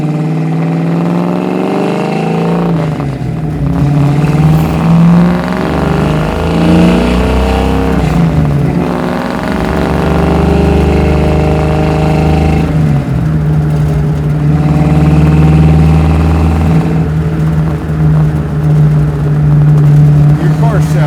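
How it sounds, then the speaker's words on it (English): A garage-built stroker 1971 Ford Mustang Fastback with a custom muffler setup drones loudly from inside while driving, its engine note rising and falling through revs and gear changes, with occasional talk over it. "Your car sounds so good. Your friend definitely did a great job on the muffler setup."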